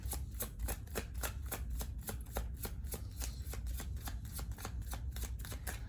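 Tarot cards are shuffled by hand in quick, regular riffling flicks, a steady close crisp rhythm lasting the whole stretch, quiet overall and without any voice.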